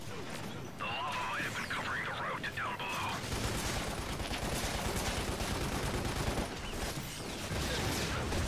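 AK rifle gunfire in the video game Lost Planet comes as dense, continuous bursts mixed with crashes and game effects, fairly faint and steady throughout.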